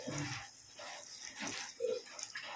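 Water runs from a tap while hands are washed, a steady splashing flow with short breaks and shifts in level, moderately close and without talk.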